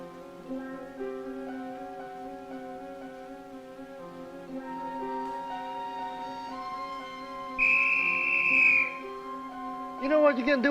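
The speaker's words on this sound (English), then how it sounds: "You know what you can do with that whistle?" A whistle gives one sustained, shrill blast lasting about a second, rising over steady background music.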